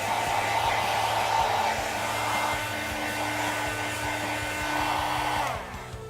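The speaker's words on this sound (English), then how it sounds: "so now we're going to blow dry it" A hair dryer blows hair dry with a loud, steady whirring roar that holds close and constant, then drops in level near the end.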